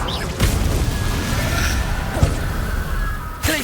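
The Confringo spell fires in the Hogwarts Legacy video game, sharp blasts at the start and end over a loud, dense rumble of battle noise, with a thud midway and no speech.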